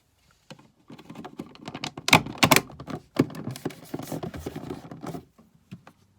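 A plastic cover is fitted back onto a caravan 12V socket module, giving a close series of quick plastic clicks, taps and snaps in bursts, with quiet pauses between them.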